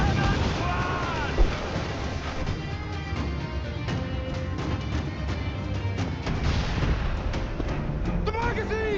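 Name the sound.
ship cannon fire in video game Assassin's Creed IV Black Flag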